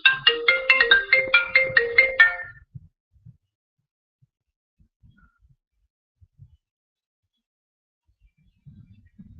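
Smartphone ringtone for an incoming call, a loud, rhythmic electronic melody pulsing for about two seconds before cutting off into near silence, with faint handling noises afterward.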